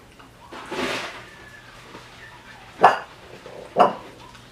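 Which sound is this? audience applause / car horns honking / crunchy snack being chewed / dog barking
dog barking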